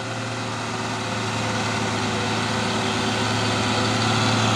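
A single-axle engkel truck engine drones steadily at close range, a loud, even low rumble with a faint rise as it runs, and no talking.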